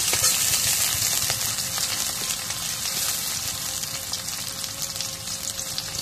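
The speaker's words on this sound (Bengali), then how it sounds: "এখন কড়াইয়ের মধ্যে তেল দিই।" Onions fry in oil in a wok with a steady, dense sizzle that holds an even, close level throughout, with no voices.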